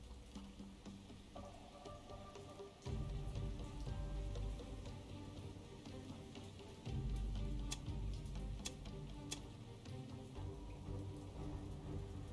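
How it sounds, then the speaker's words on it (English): Heavy, steady rain pours in the naval video game War on the Sea, a dense continuous hiss heard alone with low rumbling surges and a few sharp ticks. "Still raining like crazy."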